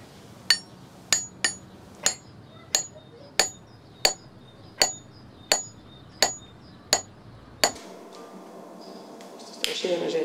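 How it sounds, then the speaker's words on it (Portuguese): Someone strikes with a hammer about a dozen times in an even, steady rhythm. The blows are sharp, ringing and close. Afterward the pounding stops and a rustle and faint voices follow. "Cadê o martelo?"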